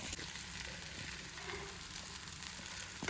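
A green gram dosa faintly sizzles on a hot pan as it is flipped, a quiet steady hiss with no voices over it.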